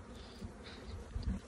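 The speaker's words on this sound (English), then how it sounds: "There's bees on your camera" Faint, close buzzing of bees swirling around a hive, a low droning hum with small bumps as insects pass near.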